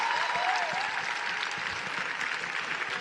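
Audience applause fills a large arena after a speaker is introduced, a dense steady wash of clapping with a few whoops and voices mixed in near the start.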